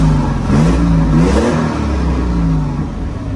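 A Mercedes V6 biturbo drift car revs hard on a track, its engine climbing and falling in loud, close, throaty surges with a whirring, slightly clattering edge and no voices.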